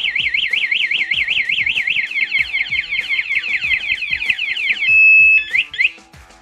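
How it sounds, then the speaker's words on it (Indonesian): A V12 aftermarket alarm on a Honda Beat FI scooter sounds loudly up close, a fast warbling siren that shifts into rising whoops before cutting to a few short chirps. "dia akan mengeluarkan suara alarm"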